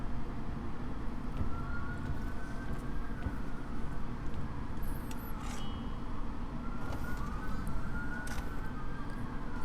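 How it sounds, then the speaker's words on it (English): Several sirens wail in overlapping rising and falling sweeps inside the video game Horizon Forbidden West, steady and moderately distant beneath a constant low rumble of ambient game sound, with no voices. "There's a lot of sirens going off right now."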